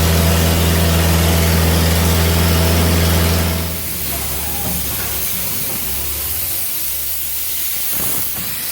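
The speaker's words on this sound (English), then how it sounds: "We're blowing water out of the engines right now, moving it back and forth with compressed air." Compressed air blows water out of the engines of a 1907 Lombard steam log hauler, a loud continuous hiss with a low droning hum that cuts off partway, leaving a rougher, softer spray of air.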